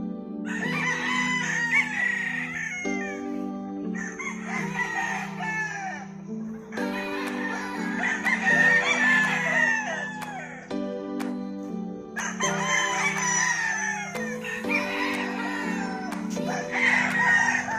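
Several roosters crow in repeated bursts in Argao, Cebu, Philippines, loud and close, with overlapping cock-a-doodle-doo calls and occasional clucking between them.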